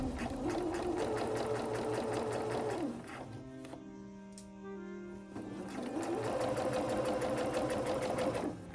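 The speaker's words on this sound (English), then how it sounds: "this is my sewing machine. Just gonna quickly zip through this line" A sewing machine stitches a seam on a jacket sleeve, running in a fast, close whir for about three seconds, pausing briefly with lower mechanical hum, then running again in a second steady burst.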